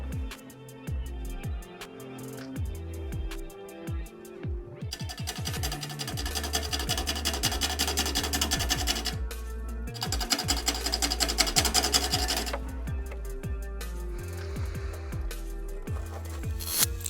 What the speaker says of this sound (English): Freshly sharpened 1/2-inch bowl gouge.